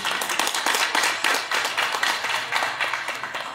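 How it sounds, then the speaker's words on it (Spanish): Audience applause at a prize-giving ceremony for a diocesan seminary raffle in Tacámbaro, a steady round of many hands clapping in fast, dense bursts that carries through the whole moment at moderate volume. "Un fuerte aplauso, por favor."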